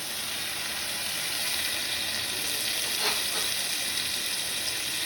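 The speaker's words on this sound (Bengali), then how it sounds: "পেঁয়াজটা আমার ভাজা ভাজা হয়েছে, এখন আমি বাটা মশলাটা দেবো" Chili and ginger paste sizzles in a pan with browned onions while cooking prawns with banana flower, a steady, close, loud frying hiss with no talk.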